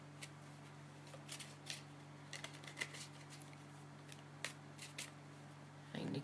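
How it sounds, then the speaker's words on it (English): A deck of cards being shuffled during a live psychic card-reading chat, heard as quiet, scattered riffling bursts over a steady low electrical hum, with a louder rustle at the very end. "I'm shuffling the cards just now."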